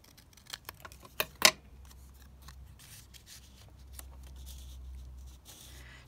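Scissors cutting a sheet of decorative floral paper in half: a quick run of sharp snips and a louder crunching cut close by, then quiet rustling handling, with no talk.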